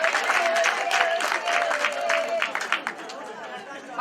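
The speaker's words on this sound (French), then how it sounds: "Applaudissons pour Sa Majesté." Crowd applause during a funeral ceremony at a chiefdom, uneven clapping mixed with chatter and babble of voices, a faint whistle-like tone early on, moderately loud and close.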